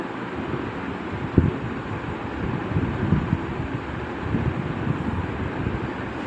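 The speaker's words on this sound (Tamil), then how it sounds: "ஏன்னா இப்போ காற்றடிக்குதா" Steady wind rushes and rumbles continuously, with low gusty buffeting and one brief bump, no voices present.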